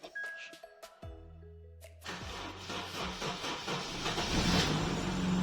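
A car with a dead battery is jump-started from a power-bank booster. A few clicks and a brief crank lead to the engine catching, then it settles into a steady idle that grows louder.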